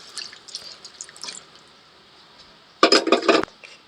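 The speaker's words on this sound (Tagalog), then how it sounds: "At lagyan natin ng isang basong tubig." A glass of water is poured into a cooking pot for paksiw na bangus with pork liempo: faint drips and small clatters first, then a short, loud, close splash of pouring water.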